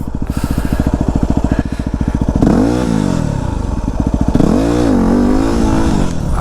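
A Yamaha WR250R motorcycle engine idles with a steady throb, then revs up and down in repeated surges during slow wheelie practice, loud and close.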